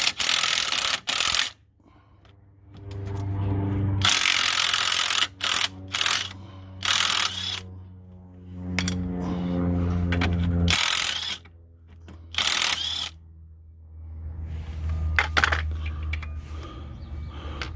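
An impact wrench loosens the 21 mm front strut nuts on a 2000-2007 Chevy Impala. It fires in about six or seven loud, rattling bursts of a second or less, separated by quiet pauses in a garage.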